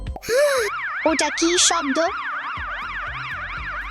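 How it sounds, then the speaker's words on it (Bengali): A fire truck siren wails in a steady, rapid up-and-down sweep, loud and close, running through the whole stretch while a voice speaks briefly over its opening seconds. "হ্যাঁ, ওটা ছিল একটি ফায়ার ট্রাকের শব্দ।"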